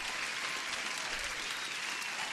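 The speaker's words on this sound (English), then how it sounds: "Huge applause for everyone." Steady, dense applause holds evenly throughout a short stretch, with no voices over it.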